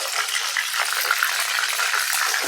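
Chicken pieces frying in hot oil for biryani, a steady, bright crackling sizzle with tiny pops, constant and fairly close, with no voices.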